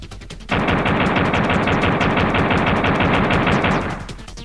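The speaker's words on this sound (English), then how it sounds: "So we select one of the codes, then return to the game and fire some bullets." Rapid continuous gunfire from Duke's pistol in an N64 game, played with an unlimited-ammo cheat code, bursts in abruptly and rattles nonstop for about three seconds before cutting off, loud and without talk.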